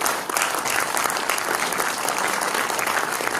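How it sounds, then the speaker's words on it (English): A conference audience gives a panel a warm round of applause at an evening event on dying with care; dense, steady clapping fills the whole stretch without pause. "I wonder if you could give our panel a warm round of applause."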